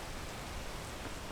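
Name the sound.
rain in the video game PEAK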